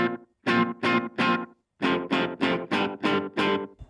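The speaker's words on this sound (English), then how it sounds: "if you take the level and put it all the way up, and take the time and go all the way down, you can actually get a reverb effect" Electric guitar through a Boss Katana Mini amp with the delay set to a very short time and full level, giving a reverb-like wash; a series of strummed chords, close and moderately loud, with no talk.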